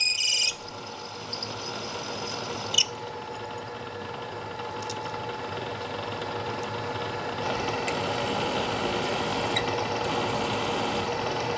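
A K&T 2HL milling machine countersinks holes in a metal bracket with a steady, close mechanical hum and whine running throughout, broken by a couple of faint clicks and a slight rise in tone near the end, with no talking.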